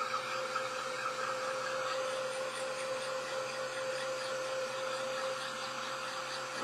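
A small handheld craft dryer blows steadily while drying paint on craft tags, a constant close whirring drone with a steady tonal hum and no talk.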